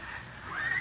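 A horse neighs as a sound effect in an old Western radio drama, a single rising whinny heard clearly against a faint hissy background.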